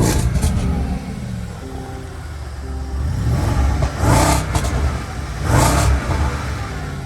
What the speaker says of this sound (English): I'm going to activate the loud exhaust with this little button here.